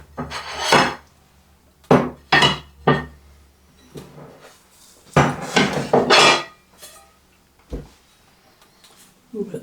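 Cornbread lifted out of a hot metal baking pan: a run of close, separate clanks, scrapes and knocks of utensil against pan, with quiet gaps between them and no steady background.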